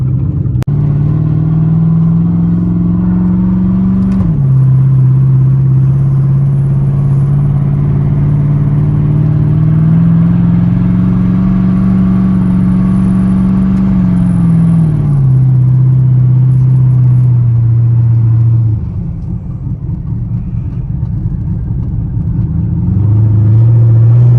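An Audi RS3 with a five-cylinder engine cruises steadily on the road, its deep, continuous engine drone loud and close throughout, dipping briefly in pitch near the middle and easing off toward the end.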